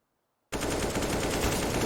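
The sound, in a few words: gunfire spray in CS:GO video game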